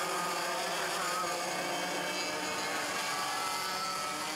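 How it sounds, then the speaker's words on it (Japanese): Racing cars pulling away from the grid at the start of a 2016 NTC Cup SS class race, a dense steady roar of engines and broadband noise with no clear gaps. "さあようやく今グリーンフラッグが振られまして、各マシングリッドを離れていきます。"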